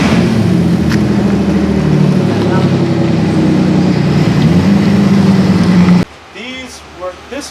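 Car engine with a new Megan catback exhaust, heard from inside the cabin as a steady loud drone for about six seconds, then it cuts off abruptly and people talk.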